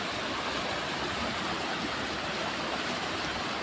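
A river running full after heavy rain, a steady broadband rush of flowing water that is constant and unbroken, moderately loud with no other sounds over it.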